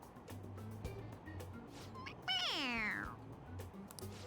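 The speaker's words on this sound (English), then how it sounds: "It meows when you press on its head." A toy cat in the Persona 5 video game gives a rising then falling meow when its head is pressed, one clear cry over a low steady game-music hum.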